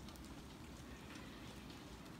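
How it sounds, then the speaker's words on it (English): Steady rain falls and patters on a surface in Toms River in December, an even, soft wash of sound with no voices. "So right now, it's raining again."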